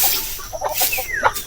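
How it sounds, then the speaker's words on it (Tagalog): A broody heritage hen on a farm gives soft clucks and grumbles under a steady hiss of outdoor background noise, with a thin bird chirp sliding through near the end. "Ito yung kaisa-isahan nating heritage chicken na naglilimlim"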